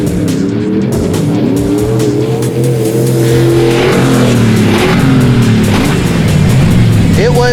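Junkyard car engine revving hard through a jump, loud and close, its pitch rising and falling through gear changes with rough roaring and tire noise over the whole stretch, with faint voices underneath.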